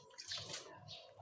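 Plates are washed under a running tap, a close splashing, rushing stream of water with light clinks and dribbles, brief and steady, with no speech.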